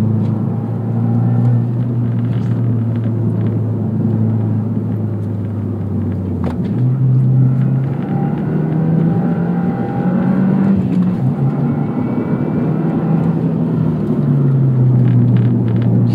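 A stock 2022 Subaru WRX Premium engine heard from inside while cornering, a steady loud droning rumble whose pitch dips and rises as revs change through the turn, with no talking.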